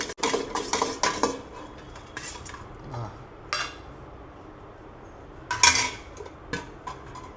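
A spoon mixes chilli-coriander chutney in a metal dish at a fast food restaurant. It gives irregular clinks and scrapes that come in short bursts, with softer stirring in between and no talking.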